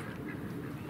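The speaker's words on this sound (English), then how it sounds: "Do you hear them quacking?" Ducks quack at a farm in a brief, faint, low burst under a moment of outdoor background sound, lasting under a second.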